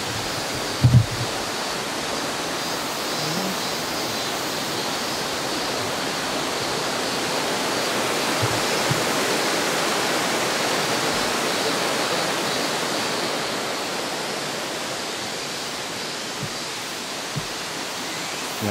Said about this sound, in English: Take a look at the river.